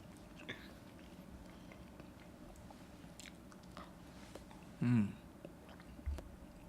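A bite and crunch into a cold, dry chicken nugget, one louder chomp followed by a smaller chew, close up against a quiet room, with no talking.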